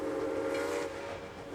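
An Atlas O scale 2-8-0 model locomotive's sound system blows a steady hooter-style steam whistle, a sustained chord-like tone that holds for over a second before easing slightly, loud and alone.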